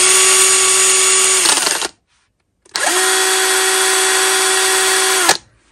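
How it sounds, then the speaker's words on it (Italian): Hychika 18V cordless drill spinning freely at high speed, a loud steady whine that cuts off, pauses briefly in silence, then starts up again and runs at a constant pitch. "la punta gira perfettamente dritta"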